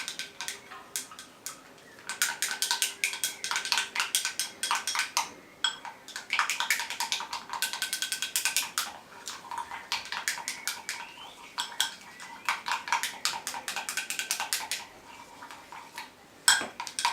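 Rapid clinking and scraping of a utensil against a container while a mixture is stirred for decorating a vase, in bursts of quick rhythmic taps with short pauses, close and fairly quiet.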